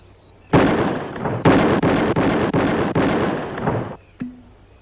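Rifle shots fired at a target during a shooting contest, a rapid string of about five loud, close, sharp cracks packed into a few seconds, each ringing into the next.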